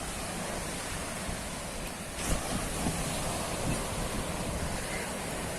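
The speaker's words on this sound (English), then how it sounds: "Look at the waves." Ocean surf at Varkala Beach in Kerala below the cliffs, a steady broad wash of breaking waves with a slightly louder surge midway, wind-like and continuous with no voices.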